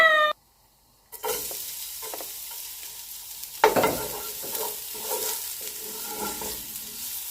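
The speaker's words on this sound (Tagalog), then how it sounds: "Ayan, fry ko na po yung bawang." Garlic frying in hot oil in a casserole pot for beef adobo with mixed vegetables: a short quiet gap, then a steady close sizzle starting abruptly, with a few clinks of stirring and no talk.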